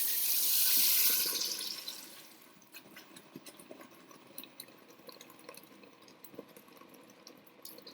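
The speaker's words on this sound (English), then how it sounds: "I'm going to rinse out the jug of my blender to get all of the salsa out" Running tap water splashes into a blender jug being rinsed of green salsa in a home kitchen, a loud rushing burst at first that settles into softer, uneven sloshing and trickling.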